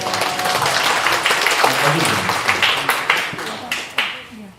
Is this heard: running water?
no